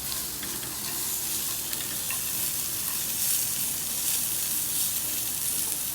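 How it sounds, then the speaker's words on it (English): Mixed vegetables are stirred into translucent onions in a hot pan, frying with a loud, steady close sizzle and no talk. "At this point of time, we'll start adding the veggies. Give it a good mix."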